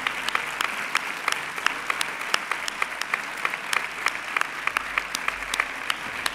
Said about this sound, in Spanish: el aplauso para estos dos grandes del deporte español.